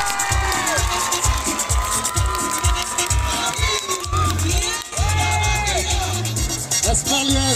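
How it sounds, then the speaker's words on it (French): Loud crowd cheering and shouting with excited whoops and clapping mixed in, sustained and lively throughout, at a night carnival parade in Denain, France. "On peut les applaudir bien fort."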